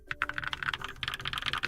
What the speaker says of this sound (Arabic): لكن صوت لوحة المفاتيح رائع فعلا.